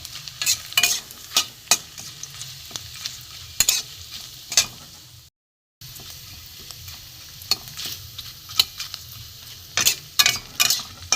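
Papad sizzles and crackles in hot oil in a kadai, a steady bubbling hiss broken by frequent sharp pops and the scrape of stirring, close and alone without any talk.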